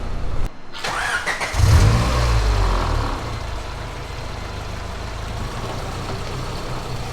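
A turbocharged Honda Civic engine cranks and fires, rising in a brief rev before settling into a steady, close idle with low rumble.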